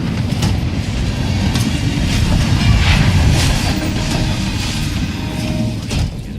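A moving train in the Hitman: World of Assassination video game rumbles steadily with a loud, close, continuous roar and faint clacking, with no talk over it.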